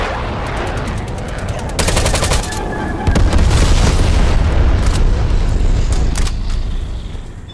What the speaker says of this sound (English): Sit rep, napalm strike inbound.